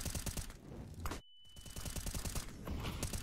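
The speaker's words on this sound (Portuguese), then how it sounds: "Tiros rolando aqui pra Smoke" Rapid gunfire from a Counter-Strike match on the Inferno map rattles in dense bursts of shots, broken by a short gap of near-silence, then resumes with sustained firing at a moderate, somewhat distant level.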